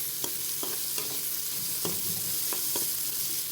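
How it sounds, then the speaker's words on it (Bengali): Chopped onions and green chilies fry in oil left over from frying fish, giving a steady close sizzle with occasional clicks of stirring and no talk. "মাছ ভাজির ভিতরে সামান্য আরেকটু তেল দিয়ে দিলাম কারণ আগের তেল আছে সেজন্য পেঁয়াজ কুচিগুলো দিয়ে দিলাম কাঁচামরিচ"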